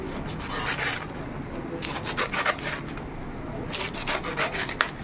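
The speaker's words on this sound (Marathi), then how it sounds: "भाजी बघ पहिलं कापून घेत आहोत" Taro leaves being cut for cooking on a board, a close run of rhythmic rubbing strokes and scrapes in uneven bursts, fairly soft against a steady background hiss.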